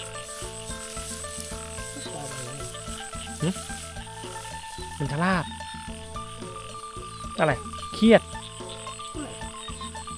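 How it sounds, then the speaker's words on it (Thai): Field frogs croak in a rainy-season paddy during a frog hunt, a few short, throaty calls scattered through the middle and end, heard under steady background music and people talking. "กบทุ่งนา"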